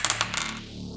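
Dice are rolled for a character's ability scores in a tabletop role-playing game, giving a quick burst of bright, clicky clatters up close that settles and fades within a second.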